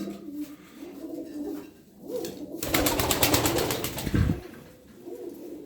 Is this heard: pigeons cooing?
yes